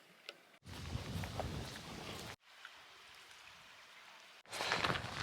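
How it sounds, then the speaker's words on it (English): Rain falls outdoors along a hill trail in bursts of steady hiss and patter, fairly faint, with brief quiet gaps between the bursts. "Oh, it started raining again."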